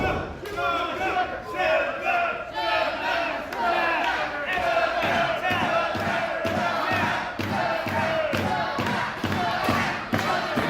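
A wrestling crowd at an ACW Proving Ground show chants and cheers in rhythmic unison with clapping and stomping, loud and close, while a commentator talks over the noise.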